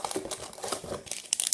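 Booster pack wrapper for Dragon Ball Heroes trading cards crinkling and tearing open, a close, busy run of crisp crackles and rustles that grows sharper near the end.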